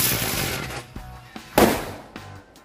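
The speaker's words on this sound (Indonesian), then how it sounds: "Untuk yang selanjutnya ini kita nyalain mercon ground blown happy flower. Ini bisa berputar dan ada bledosnya guys." A ground bloom flower firecracker spins with a brief high whistle, then several sharp, loud pops and bangs crack out close by in uneven bursts.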